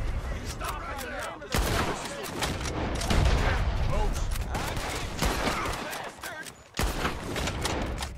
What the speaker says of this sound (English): I don't know why you shot there.